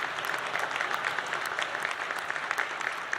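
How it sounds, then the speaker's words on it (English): Audience applause at an economic club address in New York, steady dense clapping from a crowd filling the whole stretch without pause, fairly distant and even in level. "Only the smart people are clapping."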